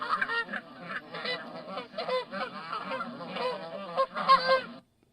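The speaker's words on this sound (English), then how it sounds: "I got geese." A flock of geese honking in a dense, overlapping clamor, loud and continuous for about five seconds before cutting off abruptly.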